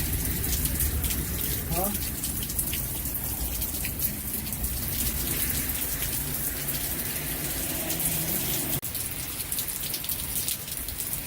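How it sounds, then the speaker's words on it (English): Steady rain falls during a storm, a dense, close patter on surfaces with wind rushing, while a voice briefly speaks. "the rain has calmed down a bit"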